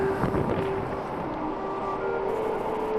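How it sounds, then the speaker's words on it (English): Steady wind rumbles across the microphone outdoors on the Paine Circuit trek near a mountain pass, moderate and continuous, with a faint tonal hum underneath. "It's a bit cold, a bit of wind."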